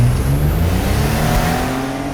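A turbocharged all-wheel-drive Chevy S10 pickup launches hard on a track, its engine roaring loud and close with a steady, sustained drone that holds strong as it pulls away under full throttle.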